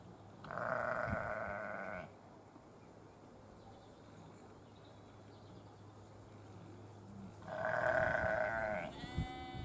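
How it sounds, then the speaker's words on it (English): Two long bleats from sheep in a field, well apart, with a quiet outdoor hush and faint distant birds between them. "a field full of sheep."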